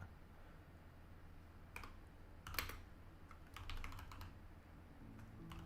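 Quiet, close computer keyboard typing comes in short, uneven bursts of clicks over a low background hum, with no speech.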